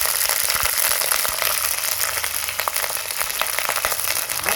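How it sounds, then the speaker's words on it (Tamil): Mutton fries with ginger paste in a pan, a dense, bright, continuous sizzle that stays close and steady throughout with no speech. "இஞ்சி பேஸ்ட்டு போட்டு கறி அள்ளி போட்டிருக்கு. கறி கொஞ்சம் வதங்கிக்கிட்டு இருக்கு."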